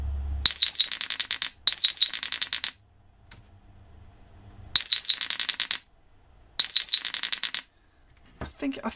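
A cheap Chinese birdsound chip played through an amplifier gives loud, shrill electronic warbling chirps in four separate bursts, each about a second long, with near silence between them.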